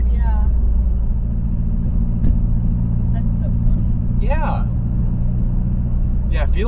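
Inside a 2022 Subaru WRX (VB) with an EP6 build running E8 fuel, a deep, constant engine rumble holds steady while passengers speak briefly over it.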